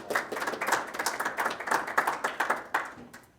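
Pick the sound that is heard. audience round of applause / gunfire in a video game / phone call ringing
audience round of applause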